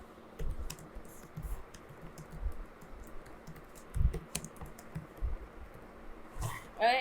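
Typing on a computer keyboard while an online exam application form is filled in, with scattered clusters of close, soft key clicks over a quiet room background and no speech.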